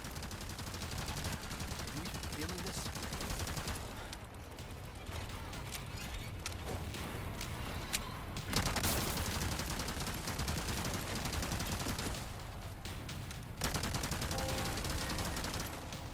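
Sustained automatic fire from the LE5 submachine gun in Resident Evil 4 Remake, rapid dense bursts running almost continuously with brief pauses, loud and close.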